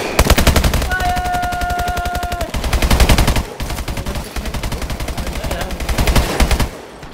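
Rapid automatic gunfire in the zombie mode of Call of Duty: Advanced Warfare, loud and close, in long continuous bursts with a brief break midway and a high electronic tone over the start.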